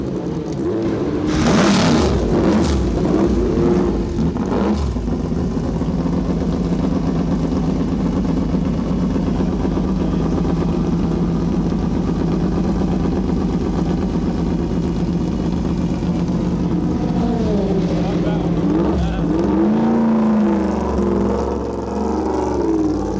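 An Aston Martin AMR1 race car engine at the 1989 Dijon race produces a loud, sustained roar, with sharp revving surges near the start and again toward the end.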